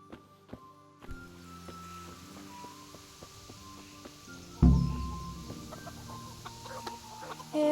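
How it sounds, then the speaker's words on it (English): Hens clucking in the medieval video game Kingdom Come, soft repeated clucks over a steady ambient backdrop with a louder burst midway, no talking. "I have to feed the hens"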